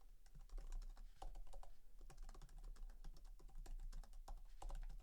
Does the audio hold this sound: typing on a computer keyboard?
yes